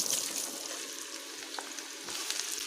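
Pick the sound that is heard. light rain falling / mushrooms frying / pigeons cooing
mushrooms frying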